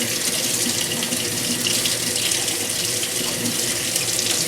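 Water streams steadily from a kitchen faucet over a pepper being rinsed in the sink, a continuous close hiss and splash with no voices.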